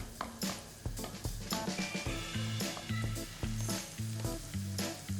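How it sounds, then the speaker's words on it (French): Shallot and garlic frying in hot olive oil in a small pan, a steady close sizzle beneath a repeating musical backing, with no voices. "Dans un poêlon, un petit peu d'huile d'olive, on fait chauffer et on ajoute l'échalote et l'ail."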